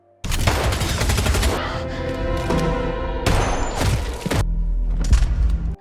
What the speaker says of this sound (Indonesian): Jack akhirnya bisa menguasai keadaan hingga ia pun terpaksa menembak Mac